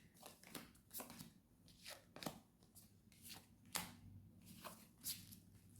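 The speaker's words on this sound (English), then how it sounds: "I will shuffle, but it's just making sure we've got everything shuffled well." Tarot cards being shuffled by hand, a faint, close series of quick riffling and slapping bursts repeating irregularly, with no talking.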